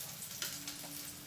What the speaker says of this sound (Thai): เจียวให้กระเทียมหอมๆเลยนะคะ